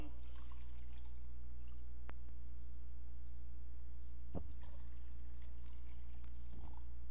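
Water is poured in a few brief, faint splashes and trickles over a steady low hum, with no talking.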